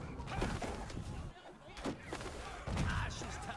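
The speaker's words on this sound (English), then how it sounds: "They're resorting to artillery." Artillery fire in the medieval battle game Conqueror's Blade comes as several sharp booming shots at irregular intervals, mid-distance and moderately loud, over battle noise with a voice talking at times.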